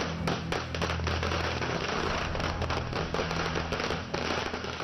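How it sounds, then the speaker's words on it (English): Firecrackers bursting on Diwali night in Delhi, a dense rapid crackle of many sharp pops and bangs at varying distances over a steady background rumble, continuous throughout. "people defied the NGT's ban on bursting firecrackers"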